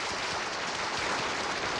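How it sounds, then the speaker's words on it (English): Audience applause sound effect from a game show, a steady, even wash of clapping at moderate-low volume with no voices. "See, the audience applause."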